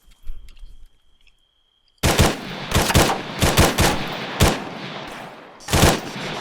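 Rapid bursts of rifle fire aimed at a stone house in ArmA 3, loud sharp reports in quick clusters after a short quiet opening, with brief gaps between volleys.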